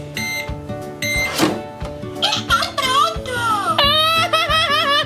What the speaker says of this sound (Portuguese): Olha, um micro-ondas.